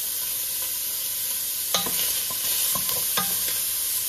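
Sausage frying in oil in a pan, a steady sizzle under a few sharp clinks and scrapes of a utensil stirring, close by, with no talking.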